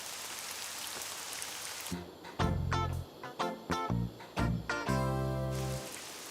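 Rain summoned by a rain dance patters steadily at first, then gives way to a string of sharp, loud bursts and clattering splashes that come in irregular pulses, close by.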